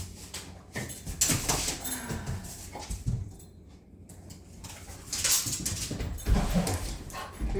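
A dog whimpers and whines in short bursts close by, with soft cooing-like squeaks, set in an indoor room while someone works on Halloween decorations.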